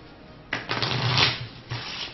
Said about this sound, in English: Shuffle these together like they do in a casino, you know. Just give them a good old riffle.